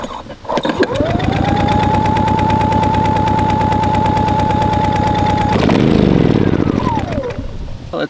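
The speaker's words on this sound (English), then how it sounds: "And then I'm just gonna pull this slowly just to kind of lubricate the engine for a little bit." Someone pull-starts a Genmax 350 propane generator engine, which fires up into a loud, rapid, even chugging roar close by, then briefly revs and winds down.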